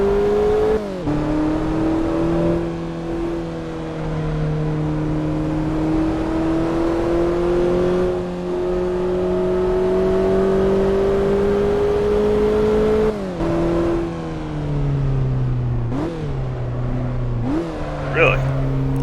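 A road car laps the Tsukuba race track, its engine droning steadily and rising gradually in pitch, then dropping at gear changes as it revs again. The engine stays close and loud with interior road noise, and people talk over it.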